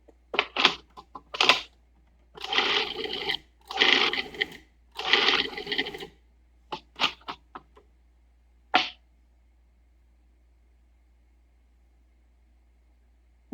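A food processor grinds meat for hamburgers or meatballs in short pulsed bursts, several loud chopping whirs of about a second each, spaced by pauses, with fewer and briefer pulses toward the end and then silence.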